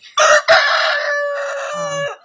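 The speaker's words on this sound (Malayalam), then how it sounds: "അഞ്ച് പൂവന്മാരുണ്ട് ഇവിടെ ആറ് പൂവന്മാരുണ്ട്" A rooster crows loud and close in a backyard flock, a single full cock-a-doodle-doo with a stuttered opening and a long, sustained ending.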